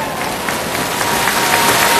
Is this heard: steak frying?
no